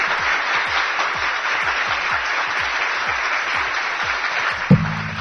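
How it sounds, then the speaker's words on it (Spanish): A crowd gives steady, sustained applause for several seconds, even and moderately loud, broken near the end by a brief tonal blip. "Un aplauso por esta experiencia tan bonita"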